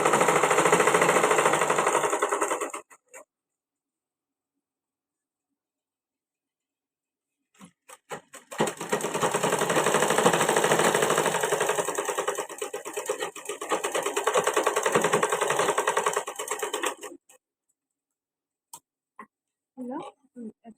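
A sewing machine stitches lining and fabric for a child's balloon frock in loud rapid mechanical bursts, running about three seconds, pausing, then running steadily for nearly ten seconds before stopping, with a few faint handling sounds after.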